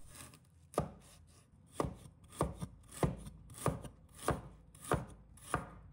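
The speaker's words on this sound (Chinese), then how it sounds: "把大蒜切成片， 生姜也切成片" A knife slices garlic cloves and ginger on a cutting board, about eight crisp, evenly spaced chops ringing out close and clear with no talk.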